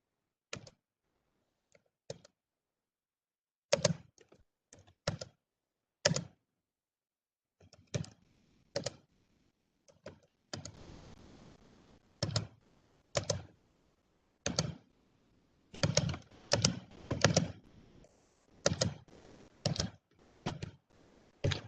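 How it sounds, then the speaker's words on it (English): Keys clacking on a computer keyboard in irregular bursts of typing with short pauses between, close and fairly quiet, with no voices. "Type your answer."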